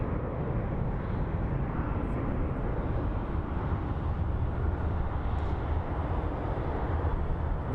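A Mesa Airlines airliner passing at Phoenix Sky Harbor International Airport, a steady broadband jet roar that stays fairly even and moderately distant across the whole stretch, with no talk over it.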